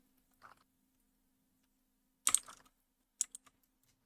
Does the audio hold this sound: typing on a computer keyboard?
yes